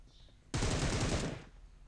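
A rapid burst of automatic gunfire in the mobile battle royale game BGMI rattles for about a second, loud and dense, then cuts off into quiet ambience.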